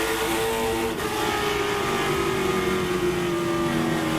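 Late model stock cars race at Langley Speedway in a NASCAR Whelen All-American Series event, engines roaring loud and continuous with a rising, revving drone as the pack sweeps by, no voices over it.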